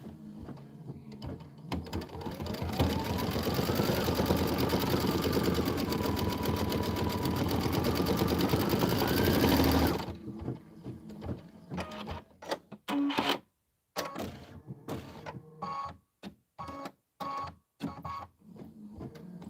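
A computerized embroidery machine stitches an accent fill on the flower tops of a winter quilt block, a fast steady mechanical whirring and clatter for about eight seconds before stopping, followed by sparse, intermittent small noises.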